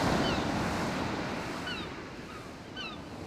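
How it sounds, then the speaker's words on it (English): Ocean waves roar in a constant broad wash, heavy and close, inside a video game demo set on a ship's deck, with faint high chirps above the surf and no talking. "But the waves, the sound, it's drowning everything out"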